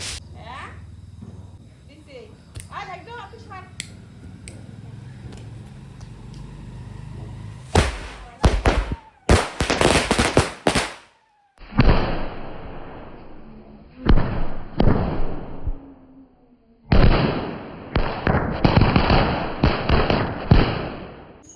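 Chocolate bomb firecrackers going off during a family Diwali celebration, a string of loud cracking bursts and crackling rattles in several separate volleys, with a person talking before the first blasts.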